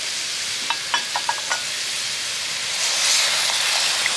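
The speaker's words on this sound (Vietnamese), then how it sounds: "Cho nước vô luôn." Water is poured into a shrimp and fish sour hotpot, giving a steady hissing sizzle with a few brief clinks early on and the hiss swelling near the end.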